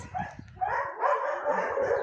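A dog barks at another animal outdoors, giving a few yelping barks near the mic amid background activity.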